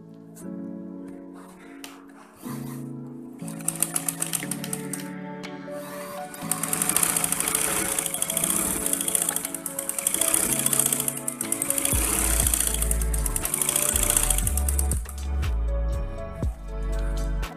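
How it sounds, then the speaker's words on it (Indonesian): A sewing machine topstitching a seam on an asymmetric blouse, its needle running in a steady rapid hum that starts after a few short bursts and holds loud and continuous to the end. "Untuk kambu jahitan ini kita arahkan ke badannya, lalu kita tindas dulu."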